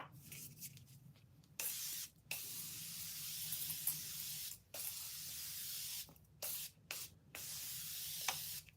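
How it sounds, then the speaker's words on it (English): Morphe Continuous setting spray is misted toward a face in several short hissing bursts of uneven length, separated by brief silences, close to the microphone and with no talking. "Yeah, something's wrong with the spray on this one, I think."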